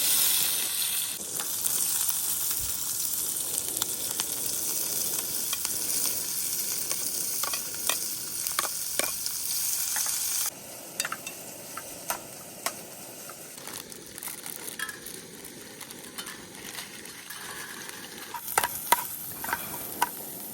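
Green chilies frying in oil for Maggi noodles, a loud, dense sizzle that drops to a quieter crackle halfway through, with scattered sharp pops and clicks.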